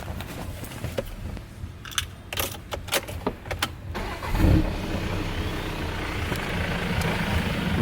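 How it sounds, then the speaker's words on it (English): A car fitted with a newly installed twin-disc clutch is started up: a few clicks and rattles, then the engine cranks and catches, settling into a steady idle close by. "And now I'm going to start up, this is with the twin disc, so you can see the difference in outside noise."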